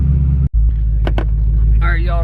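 A high-mileage Ford Mustang GT, around 120,000 miles, idles with a loud, steady low rumble close by, briefly dipping once, while a person talks over it.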